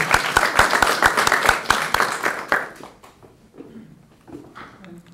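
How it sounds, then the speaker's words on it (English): A conference audience at a bike workshop claps for a table of speakers, a burst of rhythmic clapping lasting about three seconds before it fades into quiet room noise. "Can I please have a wonderful round of applause for our table of speakers?"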